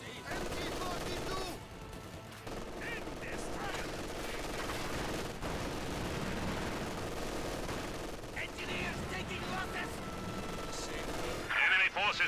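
Sustained MG42 machine gun fire in a Company of Heroes 2 battle, a dense steady rattle running through the whole stretch, mixed with other gunfire, explosions and battlefield din, with game voice lines in the background.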